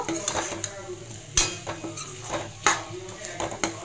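Grated carrot halwa sautéed in a pan, with a spoon scraping and stirring in sharp metallic clinks and scrapes over a soft sizzle, close by, with faint talk underneath.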